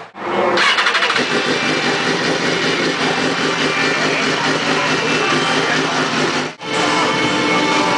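A BMW S1000RR sport bike engine starts on a dynamometer, catching quickly and settling into a loud, close, steady idle roar, with one brief cut before it picks straight back up.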